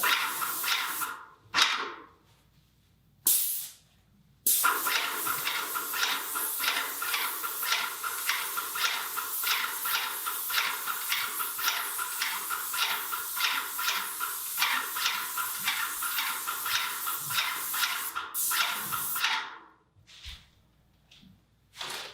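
An airless paint sprayer running at full pressure, its Graco gun coating one side of a door: a couple of short bursts, then a long, steady, pulsing hiss that cuts off near the end.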